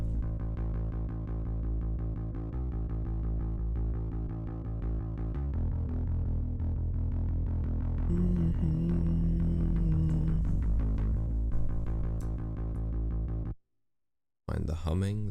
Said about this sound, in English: it's literally just a pitch down guitar. Just pitch down an octave.